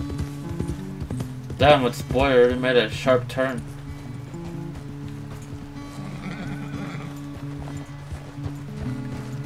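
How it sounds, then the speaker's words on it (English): Horse galloping in the video game Red Dead Redemption 2, rhythmic clip-clop hoofbeats with a whinny, under game music and someone talking over the action. "I wonder how fast can he push his horse to the limit"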